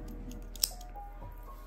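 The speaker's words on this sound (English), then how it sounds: "take your scissors, cut your yarn, leaving kind of a tail so you can sew it in" Scissors snip through crochet yarn in a single quick, sharp cut, heard close and quiet against a soft background with no talking.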